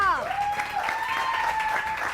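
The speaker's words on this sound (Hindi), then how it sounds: "अपने लिए तालियां।" Studio audience applause on a Pakistani morning TV show, a brief burst of clapping with cheering and voices mixed in, fairly loud and dense, with a tonal whistle-like line running through.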